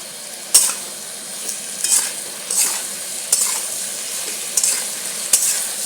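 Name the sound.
stir-frying spice masala with milk in a pan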